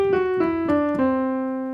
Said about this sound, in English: C Lydian would look and sound like this.